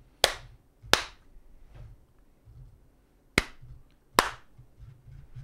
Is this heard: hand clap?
yes